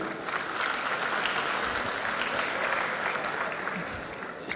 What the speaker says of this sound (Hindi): मैं चाहता हूं आप लोग एक बार जोरदार तालियां उनके सम्मान में बजा दीजिए